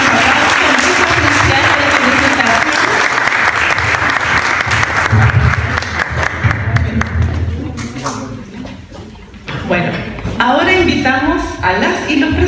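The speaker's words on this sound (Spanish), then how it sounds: "Les damos cariñoso aplauso." Warm applause after a university research presentation in Chile, loud sustained clapping for several seconds that fades as talking takes over, then rises again briefly.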